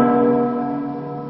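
A single church bell strike rings out loud and bright, its rich metallic tone sustaining and slowly fading over a second or so, alone without voices.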